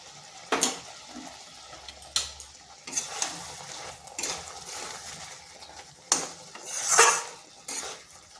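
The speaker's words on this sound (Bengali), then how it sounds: "এখন দিয়ে দিচ্ছি ভাজা মশলা" Roasted spice powder tipped into a pan of pointed gourd curry and stirred, giving sharp metallic clanks and scrapes of a spoon against the pan in irregular bursts over a faint simmer, with no voices.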